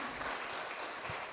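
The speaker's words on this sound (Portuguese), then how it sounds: "pode aplaudir ao Senhor" Church congregation applauding during a sermon, a short, even burst of many hands clapping at moderate volume without voices.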